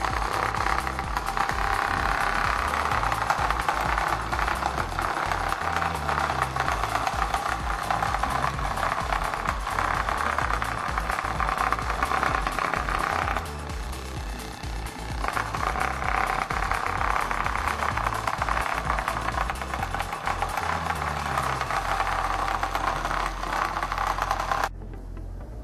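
A small homemade robot runs along its track, its little motor producing a continuous buzzing, rattling drone that holds steady, briefly softens midway, then cuts out near the end.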